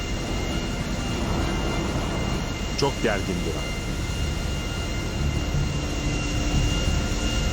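A Learjet 60XR business jet runs through a landing gear test, a steady loud roar of engine and airflow filling the whole stretch, with a brief mechanical whine partway through and a voice speaking over it.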